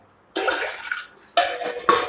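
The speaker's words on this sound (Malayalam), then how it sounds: "നമുക്ക് ഒരു ഗ്ലാസ് വെള്ളം ഒഴിച്ചു കൊടുക്കാം" Water is poured into a pressure cooker for cooking toor dal in two separate splashing bursts, the first about a second long and the second shorter with a brief follow-up splash, close and fairly loud.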